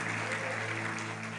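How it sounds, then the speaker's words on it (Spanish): Congregation applause inside a church service, a steady continuous wash of clapping with a low sustained hum beneath it, moderately quiet and without talk. "Dale un fuerte aplauso a Dios."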